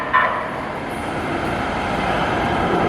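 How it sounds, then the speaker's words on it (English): Rail cars roll by nearby on a line heading to LA, a steady rumbling wash of wheels on track that builds slightly over a few seconds with a brief squeal at the start. "This isn't our train."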